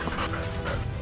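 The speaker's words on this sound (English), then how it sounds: "In less than 5 minutes, loud barking erupted at the edge of the field." A brief, close burst of dog barking at the edge of a field, loud and rough, lasting only about a second.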